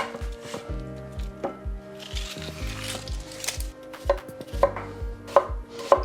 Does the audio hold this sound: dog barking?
no